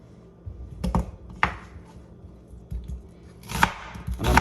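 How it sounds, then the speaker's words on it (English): A kitchen knife chops half of a medium onion on a cutting board, a few sharp taps spaced out at first and then quicker close together, near and clear with no talking. "And I'm gonna finely chop my onion."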